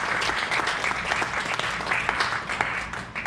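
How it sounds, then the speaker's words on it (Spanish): Church congregation clapping together at a Spanish-language service, a dense, steady crowd applause that stays loud and even throughout with no pauses. "Denle un aplauso al Señor."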